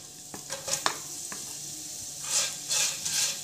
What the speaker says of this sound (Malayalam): ഇതിനകത്തോട്ട് ഇനി അരിഞ്ഞു വെച്ചേക്കുന്ന സവാള ഇട്ട് കൊടുക്കാം.